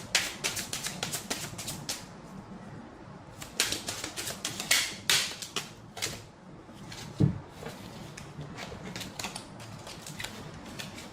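Tarot cards being dropped and handled on a table, a run of sharp clicking taps and shuffling rustles in irregular bursts, close and fairly quiet.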